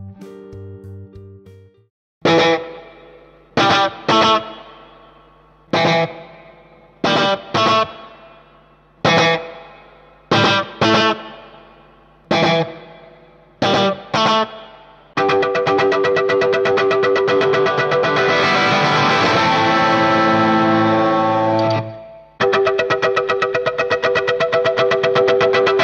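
An electric guitar played through a bright delay: a run of clipped, rhythmic chord stabs with echoing repeats, then a long sustained, swirling wash of delayed notes, with no voices.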